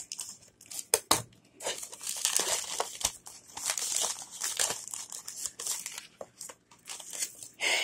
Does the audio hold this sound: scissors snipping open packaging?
yes